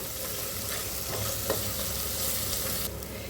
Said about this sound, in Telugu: ఇప్పుడు 1 టేబుల్ స్పూన్ అల్లం వెల్లుల్లిపాయ పేస్ట్ వేసుకుందాము. ఇది కూడా చక్కగా మనకి ఫ్రై అయ్యే వరకు ఫ్రై చేసుకుందాము.